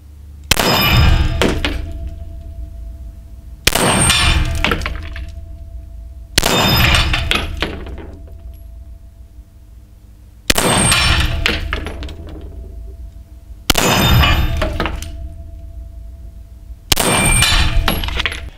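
Six sharp gunshots from a Laugo Arms Alien pistol at a shooting range, each a loud crack with a short ringing decay, spaced about three seconds apart.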